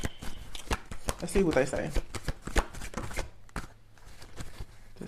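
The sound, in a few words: tarot cards being shuffled and handled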